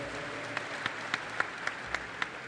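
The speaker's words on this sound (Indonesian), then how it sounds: "Kita berikan aplaus kepada Bapak Richard." An audience applauds for Richard Adkerson, chairman and CEO of Freeport-McMoRan, at a formal event in Indonesia: a steady wash of clapping from a crowd, with several sharper claps standing out at an even rhythm.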